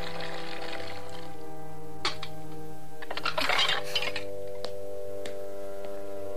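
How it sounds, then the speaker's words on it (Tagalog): Dishes being washed, with scattered light clinks and taps of plates and a brief cluster of clattering in the middle, fairly close and alone over a steady background hum. "Pagkatapos mong maghugas ng pinggan,"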